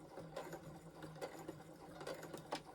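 A sewing machine stitching the edges of gingerbread-print fabric together, a quiet, rapid mechanical whirr with rhythmic needle clatter and small bursts, close by and without speech.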